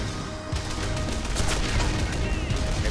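Continuous gunfire from vehicles in the World War II strategy game Men of War: Condemned Heroes, with dense rattling shots and dull impacts in a steady, loud battle din.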